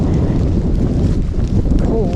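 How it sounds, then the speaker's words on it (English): Steady, loud wind buffeting the microphone on a mountain hiking trail, a continuous low roar with no breaks and no voice. "It's a bit windy today, so it makes it a little cooler"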